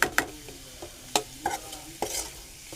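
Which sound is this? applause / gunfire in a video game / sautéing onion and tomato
sautéing onion and tomato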